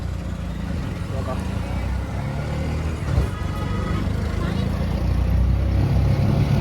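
Auto rickshaw engine droning steadily from inside the cabin during a ride in Kharghar, a continuous loud rumble with road noise that swells slightly toward the end, while a voice briefly speaks over it.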